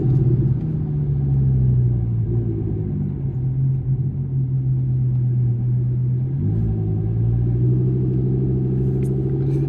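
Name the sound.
Audi R8 V10 Plus exhaust while driving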